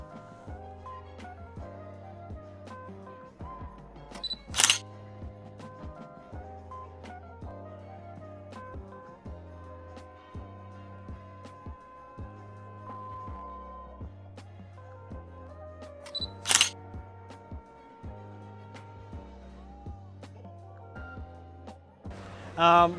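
A Leica SL camera shutter fires three sharp, isolated clicks at wide intervals inside a casino, each short snap standing out over steady background music.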